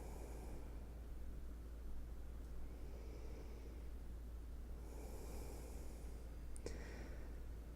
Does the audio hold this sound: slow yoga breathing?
yes